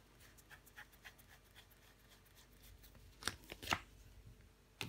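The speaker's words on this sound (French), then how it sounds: "On va recouvrir des cartes. Je recouvre l'as de coupe." Tarot cards are laid out and covered on a table, with soft intermittent flicks and slides followed by a few sharper, louder card snaps near the end.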